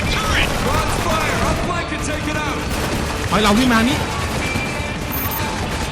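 Rapid bursts of gunfire from the video game Spec Ops: The Line crackle amid chaotic effects and musical tones, while a person talks briefly over the action.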